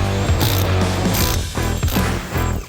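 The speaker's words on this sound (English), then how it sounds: "It's as simple as just pulling the trigger and working through the lug nuts." A 1/2 inch impact wrench loosens lug nuts on a travel trailer wheel beside a river, loud close rattling bursts of hammering with short pauses in between.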